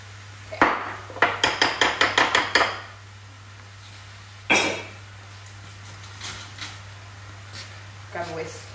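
A whisk beats a mixture in a bowl to smooth out lumps while making gnocchi bolognese, a quick run of about eight sharp metallic clinks, then a lone clink and a few fainter taps.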